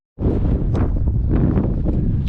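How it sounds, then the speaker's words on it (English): Strong wind buffets the microphone on a high mountain saddle in the Four Peaks area of Arizona, a loud continuous roar with gusty surges and no voices. "Hit the saddle. It's nice and windy."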